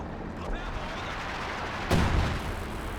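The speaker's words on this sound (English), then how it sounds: "There's major artillery." Artillery fire from the real-time strategy game Company of Heroes 2 lands amid constant battle noise. One heavy, booming impact stands out at the midpoint over a dense, rumbling wash of combat sounds.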